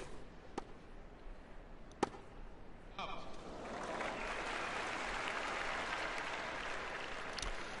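Crowd noise swells in the Tennis World Tour video game, a soft, steady wash of applause-like murmur rising after a few sharp ball hits and holding, fairly faint throughout.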